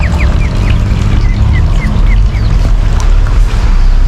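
Ducks quacking repeatedly in short bursts over steady low rumbling background noise, fairly loud and continuous, kept alongside chickens being fed on farm feed.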